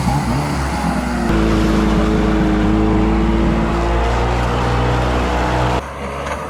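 A jet ski speeding toward and over a ramp on open water, its engine a steady loud roar with a droning whine that holds for several seconds and eases slightly near the end.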